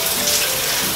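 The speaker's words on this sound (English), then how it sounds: "you want to get your hair wet with hot water first" Hot water runs steadily from a tap as hair is wetted under it, giving a constant close splashing hiss with no one talking.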